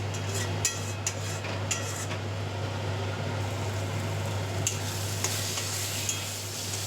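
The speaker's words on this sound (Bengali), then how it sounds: "আর একটু হবে মশলা কষা" Chicken tikka masala spices stir-fry in a pan with a continuous soft sizzle, occasional scraping strokes of a spoon, and a constant low hum running underneath.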